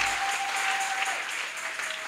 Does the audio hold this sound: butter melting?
no